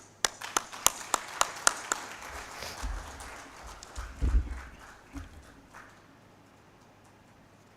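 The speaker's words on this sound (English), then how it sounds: "Another hand clap for Professor Frederick Sengoba." At an official launch ceremony in Uganda, several crisp, evenly spaced hand claps ring out in a quick rhythm, then give way to low thumps and quiet room noise.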